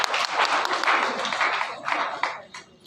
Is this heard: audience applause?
yes